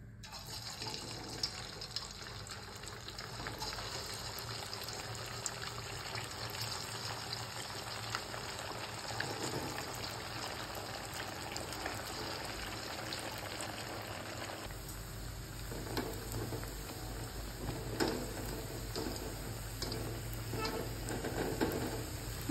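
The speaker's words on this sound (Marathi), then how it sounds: "आपले तेल गरम झालेले आहे, आपण शाबू वडे तळून घेऊया।" Sabudana vadas fry in hot oil, making a steady, soft, bubbling sizzle that continues for a long stretch, with occasional light crackles and utensil sounds.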